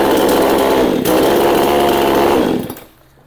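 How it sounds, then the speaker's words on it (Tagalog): Just started with a single pull, a chainsaw engine roars loud and close at a steady high pitch for almost three seconds, then cuts off abruptly into quiet. "Napakadali po niyang i-start kahit babae po, isang hila lang."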